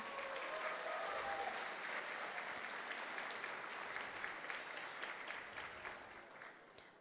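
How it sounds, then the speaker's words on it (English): Sustained applause from a banquet audience at a plenary session, dense steady clapping filling the room for the whole stretch and tapering slightly at the end. "Please give them a round of applause"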